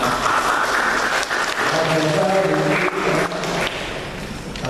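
Congregation applauding at a Sunday morning church service, steady broadband clapping filling the whole room for several seconds, with some voices mixed in beneath it.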